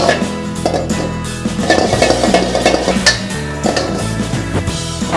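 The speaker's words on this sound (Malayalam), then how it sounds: "ഓൾറെഡി മസാല നമുക്ക് നന്നായിട്ട് മൂത്ത് കഴിയുമ്പോൾ നമ്മൾ വറുത്ത് വെച്ചിരിക്കുന്ന ബീഫ് ഇതിലേക്ക് ആഡ് ചെയ്യാം" Fried beef being stirred into a cooked-down masala in a pan for beef kutkura, with repeated metallic scraping and clinks of a spoon against the pan and a light sizzle, close and busy.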